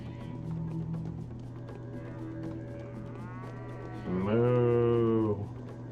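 Cattle lowing in Pathologic, a video game: a drawn-out moo early on, then a louder, fuller moo near the end, over a low ambient hum and faint background sounds.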